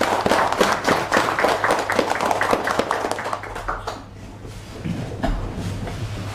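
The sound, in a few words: applause for the housing developers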